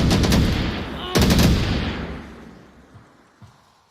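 Gunfire in the Onward VR shooter: a rapid automatic burst, a pause, then a second loud burst that echoes and decays over a couple of seconds, with faint thuds trailing off afterward.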